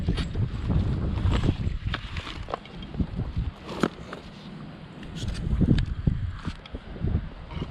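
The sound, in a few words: wind blowing outdoors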